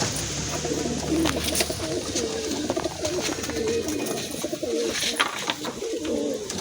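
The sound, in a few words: pigeons cooing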